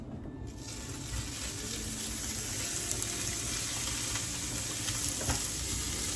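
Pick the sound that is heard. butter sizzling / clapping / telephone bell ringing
butter sizzling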